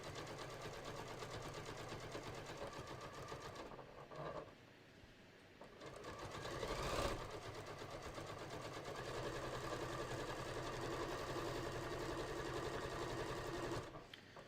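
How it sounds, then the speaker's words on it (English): A sewing machine stitches the side seam of a beach tote close to the edge, a steady fast mechanical whir that pauses briefly midway, then resumes and runs continuously. "I'm literally just going to sew up one side, you know, pretty close to the edge."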